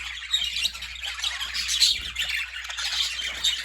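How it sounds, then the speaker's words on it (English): A group of budgies, cock birds in colour and pied varieties, squawking and chirping in a steady chattering flock, fairly close, with a low hum underneath. "There's a little colour budgies there."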